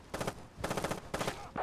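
Three rapid bursts of automatic gunfire crackle in a Tom Clancy's Iron Wrath mission, each a short rattling volley separated by brief gaps, moderately loud and close.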